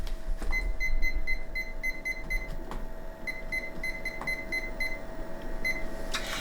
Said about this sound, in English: So I'm going to set my timer for 15 minutes